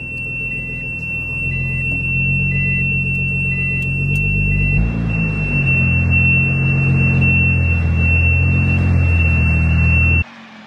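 Parking sensors on a car beep in a steady repeating rhythm over a low engine rumble, loud and close, then a continuous sensor tone takes over halfway through before the sound cuts off near the end.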